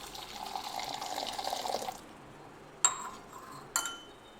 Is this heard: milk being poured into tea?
yes